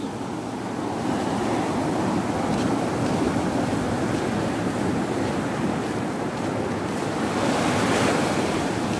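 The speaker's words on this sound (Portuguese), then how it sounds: "Vamos ver se o mar chega aos meus pés." Steady sea surf on the beach at Praia da Galheta, a continuous loud wash of breaking waves mixed with wind rumble on the microphone and no pauses.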